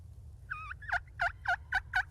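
A wild turkey gobbles in a quick rattling burst of five or six notes right after a short call, clear and fairly close in a quiet spring woods during a hunt.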